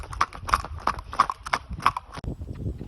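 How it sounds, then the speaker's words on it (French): Orient the pony trots on ground with a steady two-beat rhythm of sharp hoofbeats, about half a dozen clear clip-clops close by with no talking. "Entends-tu les deux battues d'Orient sur le sol pendant qu'il trotte?"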